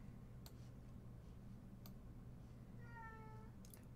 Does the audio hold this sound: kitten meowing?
yes